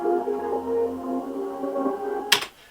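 A resampled melody made in Ableton plays reversed and doubled, with smeared swelling tones that rise in volume instead of decaying, and a sudden sharp noisy swish near the end.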